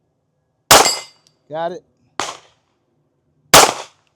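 Three sharp, loud pistol reports from an S&W Bodyguard 2.0 .380 at a shooting range, spaced irregularly over a few seconds, with a short spoken remark between the first and second shots.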